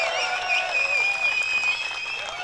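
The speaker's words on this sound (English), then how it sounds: "And they clapped all the way down, like as soon as the disc hit the basket" A disc golf crowd claps and cheers for an eagle putt dropping into the basket, dense sustained applause with whistles, close and loud for a couple of seconds.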